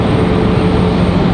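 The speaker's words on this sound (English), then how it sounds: "looks like we got a military helicopter" A military helicopter passes overhead near Raleigh-Durham International Airport as a loud, continuous, close rumbling drone with no other sounds above it.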